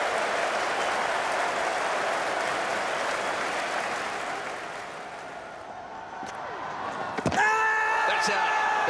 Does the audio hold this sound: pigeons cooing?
no